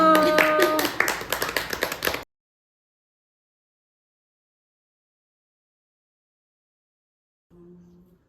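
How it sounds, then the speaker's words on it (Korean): Family members clap together at a wedding in a burst of brisk, close hand claps mixed with voices and laughter, which cut off abruptly into silence before a faint hum returns. "박수 박수"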